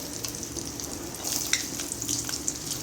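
Steady crackling sizzle of mustard seeds and garlic frying in hot oil, with small pops and spits scattered throughout, close and continuous.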